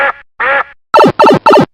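Five sharp duck quacks, close and loud, in two short bursts then three quicker ones with brief silences between.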